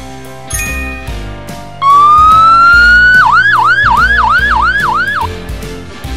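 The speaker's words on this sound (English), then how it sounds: "Firetruck." A loud, close emergency siren swells up into a long rising tone, then breaks into a fast regular wail of repeated up-down sweeps, after a short bright chime at the start; presented as a fire truck siren.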